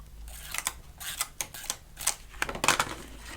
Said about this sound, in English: We add our tape.